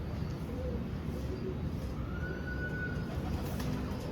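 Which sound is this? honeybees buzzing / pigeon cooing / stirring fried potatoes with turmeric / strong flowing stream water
pigeon cooing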